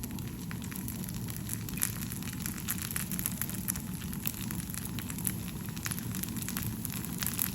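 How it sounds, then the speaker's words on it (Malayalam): Coconut oil sizzling and crackling steadily in a hot pan on the stove while poha cooks, a continuous close frying hiss with scattered pops and no talking. "സൈഡിലേക്ക് കുറച്ച് വെളിച്ചെണ്ണ ഒഴിച്ചു കൊടുക്കാം."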